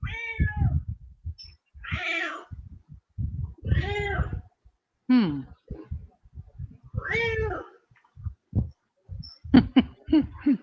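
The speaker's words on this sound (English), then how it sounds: "Your cat sounds funny." A cat meows repeatedly, several drawn-out, wavering cries spaced a second or two apart, close by, with soft thumps between them.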